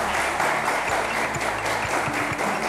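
A studio audience on a Beninese television game show claps steadily in a dense, even applause that runs the whole short stretch at moderate loudness, with no voices over it.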